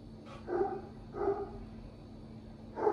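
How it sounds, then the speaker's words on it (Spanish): A pet dog barks in a home kitchen, three separate short barks spaced about half a second apart, fairly close and moderately loud over a steady background hum. "Ahí tengo a mi perro ya ladrando."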